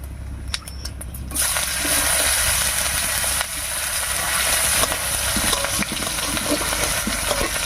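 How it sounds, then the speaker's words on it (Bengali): Chopped onion hits hot oil already tempered with whole garam masala, dried red chillies and cumin for a Bengali egg curry, bursting into a loud, steady sizzle after a brief quiet start, with occasional stirring scrapes. "এবার এর মধ্যে দেবো একটা পেঁয়াজ কুচি।"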